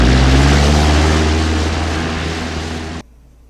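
A propeller airplane taking off roars loud and close with a steady low drone and broadband rush that eases slightly, then cuts off abruptly near the end.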